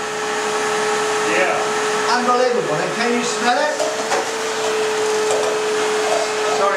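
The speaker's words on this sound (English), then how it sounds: "I'm going to switch this baby on, and let's see what happens every time you use your vacuum cleaner" A running vacuum cleaner gives a loud, steady whining drone with a strong sustained tone, while people talk excitedly over it.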